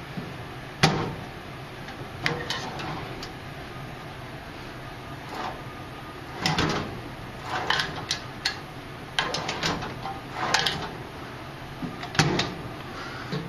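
Several sharp clicks and clacks of Husky tool chest metal drawers sliding on bearings and friction-latching, scattered in bursts, close up with no talking.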